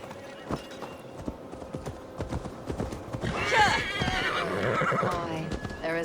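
A horse in Assassin's Creed Valhalla, with steady clip-clopping hooves up close, then a loud drawn-out neigh in the second half, while a voice speaks over the sounds.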